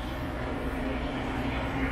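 Aircraft engine noise at an airport while an airplane is being refueled on a cold day, a steady broad roar with a low hum that holds at an even level throughout, with no talk.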